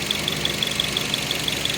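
Small engine idling after its stuck piston rings were freed and compression restored, a quiet steady mechanical hum with an even, rapid ticking knock repeating throughout.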